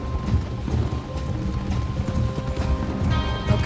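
Horse hooves clip-clop steadily along a path in the video game Red Dead Redemption 2, a close, continuous trotting rhythm with creaking tack and faint mechanical rattles, no voices.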